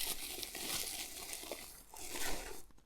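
Wrapping paper on a package crinkles and tears as it is unwrapped by hand, a continuous close rustling with brief louder crumples and no talking.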